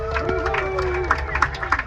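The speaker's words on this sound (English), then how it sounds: "please give a huge round of applause for the most important person on your whole tram, your driver, Lucas" Tram passengers on a studio backlot tour clap for their driver, a dense patter of hands under a sustained voice over the tram's loudspeaker.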